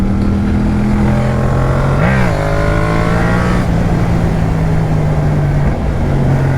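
Yamaha MT-07 motorcycle engine pulling steadily from low speed in a high gear, a continuous near drone with a brief rise in pitch as it accelerates, under heavy wind rush.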